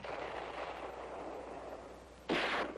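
A single cannon shot in a war western film, a short loud broadband blast near the end that follows a steady low rumble of background noise.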